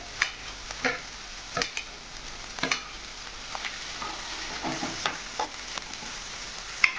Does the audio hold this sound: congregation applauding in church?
no